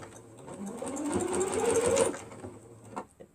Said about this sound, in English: we are going to